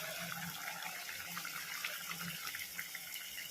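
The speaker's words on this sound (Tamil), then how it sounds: "புளி தண்ணியை ஊற்றிக்கலாம்." Tamarind water pours steadily into kara kuzhambu, a traditional Tamil tamarind curry with eggplant, making a continuous splashing, trickling stream with no talking.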